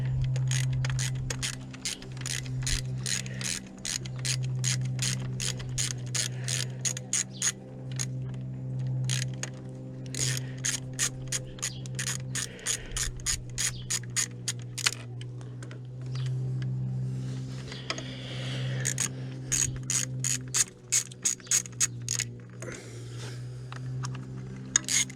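Ratchet on a small extension loosening 8mm bolts on an EGR valve, rapid clicking pawl runs repeating in bursts over a low steady hum, close and fairly quiet, no talking.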